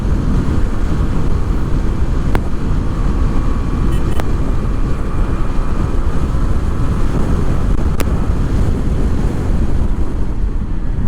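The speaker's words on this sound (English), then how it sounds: "This is the performance delivery of this engine." A Hero Xoom 160 scooter cruising at speed above 90 km/h, with a steady engine drone buried under heavy, constant wind roar buffeting the microphone, plus a few brief sharp clicks.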